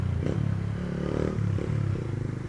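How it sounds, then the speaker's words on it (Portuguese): A motorcycle idles with its exhaust in original stock form, a close, low, rhythmic chugging putter that pulses steadily throughout. "O cano de escape fica com barulho original."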